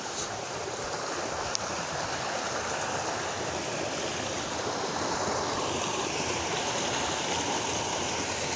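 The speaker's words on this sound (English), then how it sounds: "the stream disappears underground, and it's the entrance of the cave where the cavers go in" A stream of water pours into a cave entrance near old quarries, a steady broadband rushing and splashing that holds at an even, fairly close level throughout with no voices.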